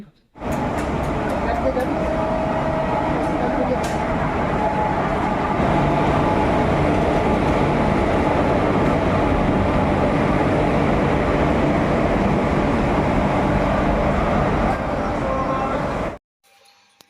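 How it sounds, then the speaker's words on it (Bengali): A passenger train arriving at a station platform rumbles loudly and steadily close by, a continuous heavy roar that cuts off abruptly near the end. "আমাদের গাড়ি টাইম মতো আমাদের প্ল্যাটফর্মে গাড়িটা ঢুকে পড়েছে"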